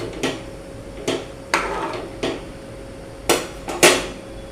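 A utensil clinks sharply against a pot while beetroot soup is stirred, giving six separate knocks at uneven intervals over quiet background.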